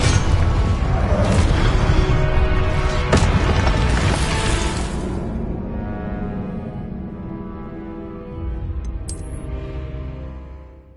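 A Confringo fire-blast spell erupts in Hogwarts Legacy, a loud booming explosion that rolls on with rumbling debris and magical crackle and slowly decays, no talking.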